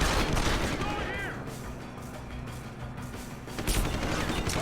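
Gunfire in Deus Ex: Human Revolution, a dense stretch of rapid shots and impacts over rumbling game noise, with someone talking faintly underneath.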